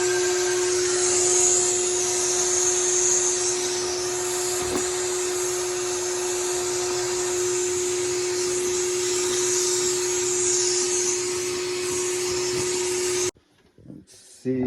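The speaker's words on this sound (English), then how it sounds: "with this nice hose attachment, we can actually vacuum this out as well" A vacuum cleaner with a hose attachment roars steadily and loudly while sucking lint out of a dryer vent duct, then cuts off abruptly near the end.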